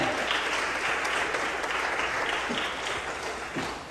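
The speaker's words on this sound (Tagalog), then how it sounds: "At tayo nandito pumalakpak sa ating mga Panginoon." A church congregation applauds during an altar call, a dense, even wash of clapping that fills the space throughout without any clear voices on top.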